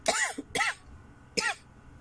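Three harsh coughs from a person with a returning cold, close up, two quick ones in a row then a third after a short pause, with nothing else in between.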